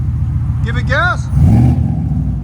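A supercharged Ford F-150 with a 5.0L V8, headers and a Black Widow exhaust gives a low, throaty rumble that swells briefly as the engine revs, while a voice speaks over it.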